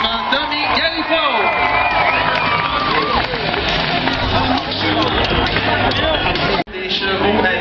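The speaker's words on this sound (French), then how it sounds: "Donnez-lui une bonne main d'applaudissement." A rodeo crowd in Bedford claps and cheers for a fallen cowboy, a loud, dense wash of applause, whoops and shouting that holds steady throughout, dips abruptly for an instant near the end, then surges back.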